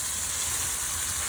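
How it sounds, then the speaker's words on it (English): Fresh tomatoes, garlic and onion sautéing in a pan, giving a steady, close sizzling hiss with no pauses. "Sauteing some fresh tomatoes and garlic and onion."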